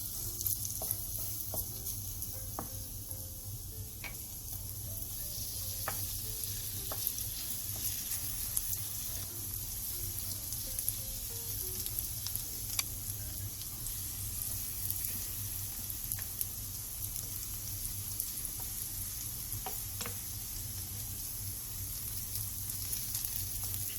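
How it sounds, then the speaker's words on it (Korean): Korean jeon batter of aged pumpkin, taro stem and bracken spooned into a pan and fried over medium-low heat, a steady gentle sizzle with soft crackles and occasional light utensil clicks, no talking. "늙은 호박, 토란대, 고사리전 반죽을 한 숟가락씩 떠서 올려 중약불에서 부쳐주세요"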